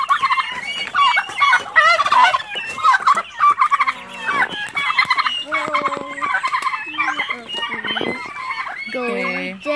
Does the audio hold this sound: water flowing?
no